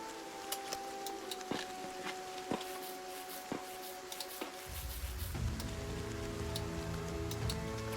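Light rain patters in the video game Dungeon Settlers, a soft, steady hiss with scattered drop ticks that thickens into a denser shower partway through.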